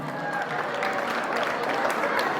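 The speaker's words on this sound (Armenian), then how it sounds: "մի հատ բարձր ծափար ենք" An audience at an Armenian evening celebration claps steadily and loudly, a dense, even wall of applause throughout.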